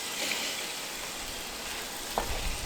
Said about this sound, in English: now we got some sizzling action happening.